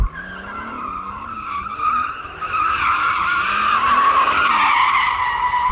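Tires squeal in a long, sustained skid as a car drifts in two-wheel-drive mode, the engine droning underneath, loud and close throughout.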